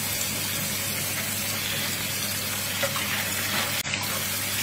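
Water runs steadily from a tap into a pot being filled for blanching pig tongue, a continuous close hiss and splash, with a brief clatter near the end.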